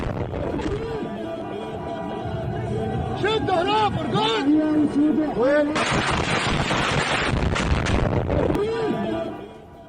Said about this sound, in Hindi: पूर्वी इदलिब के इलाकों पर बारूदी बौछार की गई है।